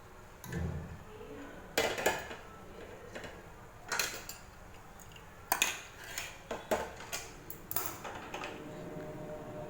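A spoon clinks and scrapes against a metal pot while urad dal porridge is stirred with jaggery syrup, giving scattered sharp knocks over a quiet kitchen background with no talking.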